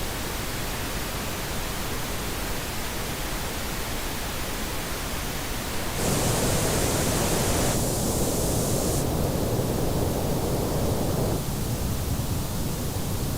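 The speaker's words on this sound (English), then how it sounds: "have a listen to this pink noise" A pink noise test signal for ear training: a steady, dense broadband hiss that runs the whole time, its level and tone shifting noticeably partway through as the balance is altered, with no voices.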